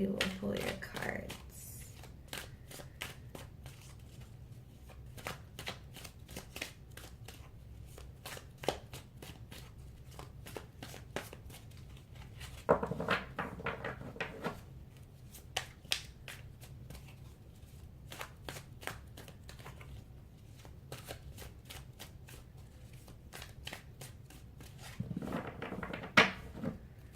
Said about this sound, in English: I'm just gonna shuffle a few more times and then we will pull your cards.